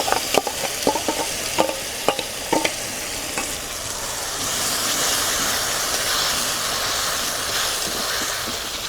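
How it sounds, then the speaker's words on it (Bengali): Ridge gourd paste fries in a pan with onion, dried red chilli and nigella seeds. A few sharp scrapes of stirring come first, then a steady, rising sizzle and hiss that carries on alone. "এইভাবে বেশ কিছুক্ষণ নেড়ে চেড়ে ঝিঙ্গাটাকে ভালো করে একটু টাইট করে নেব"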